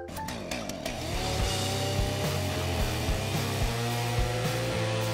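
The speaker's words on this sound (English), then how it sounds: "I have a chainsaw right here!" A chainsaw engine runs loudly and steadily, with a low rumbling idle and rhythmic bursts of revving repeating every second or so.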